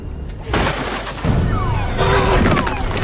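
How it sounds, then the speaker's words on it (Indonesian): Car windows smashed in a film scene as a character flees, heard as several loud glass shatters and crashes in quick succession, with falling debris and a dense, busy soundtrack underneath. "kabur menjauh sembari memecahkan kaca-kaca mobil"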